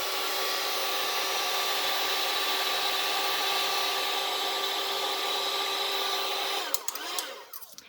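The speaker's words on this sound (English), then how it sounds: "then I'm gonna use my heat tool" Heat tool blowing hot air onto embossing powder gives a loud, steady whirring hiss with a faint whine that runs unbroken for several seconds, then cuts off into a few small clicks and rattles.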